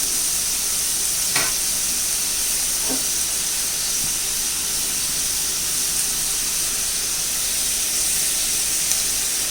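Sliced onions with salt sautéing in a pan for egg biryani, giving a steady broadband sizzle and hiss throughout, with a couple of brief soft scrapes as they are stirred.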